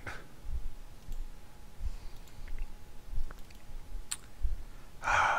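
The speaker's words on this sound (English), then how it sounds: "I'm right clicking, left clicking, double clicking, triple clipping" Computer mouse clicks while playing a hunting-scenario video game, a few sharp faint ticks spread out over a low steady background hum with some breathy noise, then a louder burst at the end; no talking.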